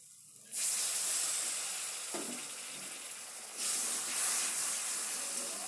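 A splash of water hits hot fried turmeric, chilli and coriander powder in a pan, setting off a sudden loud hissing sizzle that stays steady, then surges again a few seconds later.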